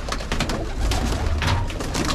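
Pigeons coo nearby in soft, low, throaty rolling calls that overlap continuously, with a busy murmur of several birds close together.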